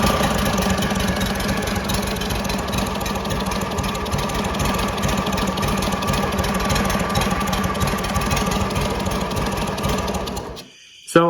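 A Warrior zero-turn mower engine fires up and runs rich for about ten seconds, a loud, steady, slightly uneven mechanical chug close by, then cuts off abruptly near the end.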